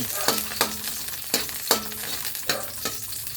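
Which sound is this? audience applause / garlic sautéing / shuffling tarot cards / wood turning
garlic sautéing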